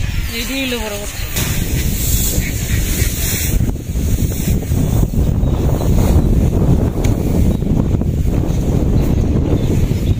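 Strong wind buffeting the microphone with a constant roar, and a brief voice at the start.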